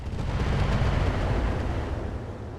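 Weapon fire in the mech game RogueTech, a loud sustained rumbling barrage like artillery, heavy and continuous, easing slightly toward the end.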